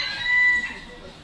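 A hen at Kaliningrad's zoo, Russia's oldest, gives a short, sharp cluck-like call against faint background voices and ambient noise.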